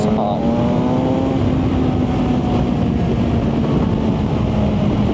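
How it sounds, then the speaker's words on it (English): BMW M1000XR motorcycle engine and exhaust revving steadily with a sustained high-pitched drone, loud and continuous throughout with rushing wind noise, no talk. "And then that exhaust livens up and it just all gets a little bit exciting."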